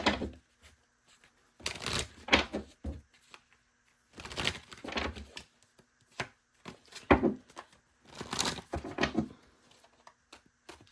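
Tarot or oracle reading cards being shuffled and pulled, with repeated bursts of riffling and sliding card noise in irregular clusters separated by short pauses, close and moderately loud, no talking.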